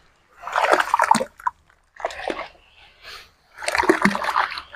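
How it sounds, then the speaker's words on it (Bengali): Filter sand kneaded and washed by hand in water, wet splashing and sloshing in three bursts with short pauses between, close and fairly loud. "এভাবে ভালো করে চটকে চটকে ধুতে হবে।"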